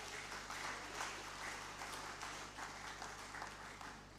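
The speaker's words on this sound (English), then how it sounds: "let's give him a huge round of applause." Audience applause at a National Diaspora Day 2024 event, a steady mass of clapping sustained throughout at moderate distance with a low hum beneath it.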